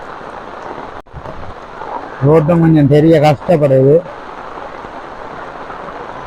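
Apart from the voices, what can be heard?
heavy rain pouring in flooded Jaffna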